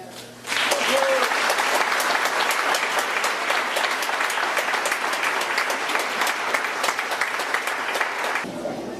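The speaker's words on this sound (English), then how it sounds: "Audience, please give a round of applause as congratulations for these new members." An audience at a high school honors award ceremony breaks into applause for new honor society members, a sudden loud burst of many hands that sustains evenly for about eight seconds before stopping abruptly.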